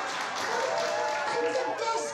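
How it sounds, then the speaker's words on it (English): Applause at a bar mitzvah celebration, a steady wash of clapping from the guests over roughly two seconds, mixed with voices and cheering from the crowd. "One more round of applause for Grandma."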